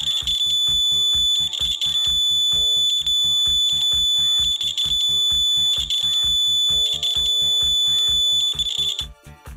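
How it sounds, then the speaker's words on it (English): A homemade clothespin buzzer sounds off in a steady, rapid string of loud, shrill electronic beeps that runs nearly unbroken, close up and with no voices over it, then cuts off near the end. "Once the milk has started boiling, the buzzer will buzz"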